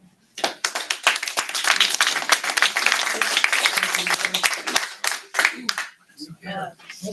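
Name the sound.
audience applause at budget committee meeting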